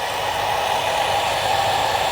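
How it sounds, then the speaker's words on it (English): A plain handheld hair dryer blows steadily over a repaired fabric wing covering on a Blackburn Monoplane, giving a continuous broadband whoosh with a constant motor hum and no talk. "And this is just a normal hairdryer I'm using here."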